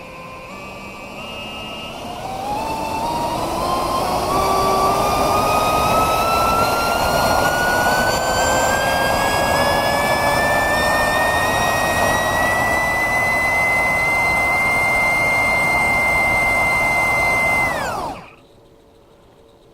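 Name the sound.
motor spinning propeller on thrust stand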